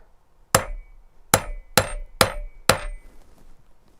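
A hammer strikes a metal stamp into a copper necklace pendant: five sharp, close, ringing blows at an uneven pace, each decaying quickly into quiet.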